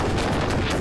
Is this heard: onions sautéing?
no